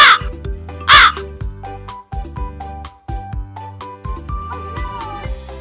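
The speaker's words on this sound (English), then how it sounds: "Crow." Two loud crow caws ring out near the start over a steady musical backing that continues after the calls.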